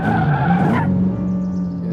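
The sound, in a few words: car engine running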